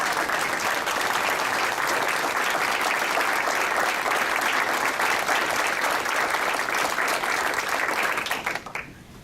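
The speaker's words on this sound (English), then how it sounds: "I would like to give you another standing ovation because you've done a phenomenal job" A room full of people gives the club president a standing ovation at a Rotary induction, steady loud clapping that holds throughout and tapers off near the end.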